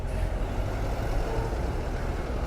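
Trucks and cars idle and creep in a traffic jam at the Delhi border, a steady, dense low engine rumble that stays close and continuous throughout, with no talking.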